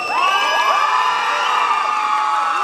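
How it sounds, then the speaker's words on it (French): A crowd at a cosplay contest in Lorient cheers loudly, with high whoops and excited shouts, some sounding like children, rising and overlapping in a continuous close roar. "Je pense qu'on peut encore une fois les applaudir très très très fort."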